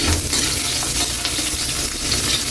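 Loud, close sizzling of onions frying in a hot pan with oil, stirred continuously with scraping and clattering, a dense steady crackle from start to end.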